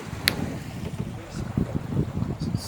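A sailboat moving under sail in light wind, with a steady low rush of water and wind along the hull that swells and eases over a few seconds, fairly close and without clear talk.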